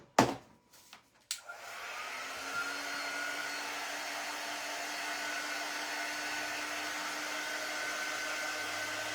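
A hair dryer drying a craft piece switches on after a few clicks and handling knocks, then blows as a steady, close whooshing hum to the end.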